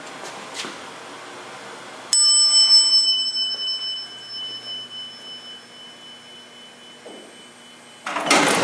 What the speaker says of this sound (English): That bell is going to ring when the door closes.